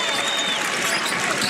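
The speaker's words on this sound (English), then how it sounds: "1 minute to go. Illinois fans come to their feet. It's been a spirited crowd." An Illinois crowd at an NCAA men's basketball game against Arkansas cheers and applauds loudly and continuously, a dense roar of clapping and voices with a whistle-like tone rising through it.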